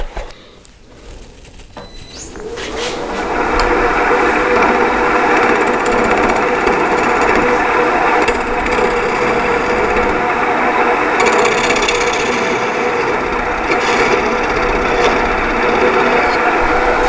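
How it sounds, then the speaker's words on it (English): A 3/8 spindle detail gouge cuts a small divot into a spinning wooden hollow form on a lathe, a steady, loud, buzzing scrape that starts after a few quiet seconds and continues without talk. "I'm just going to take my 3/8 spindle gouge, detail gouge, and just make a small divot there so the drill bit has something to follow into the hole."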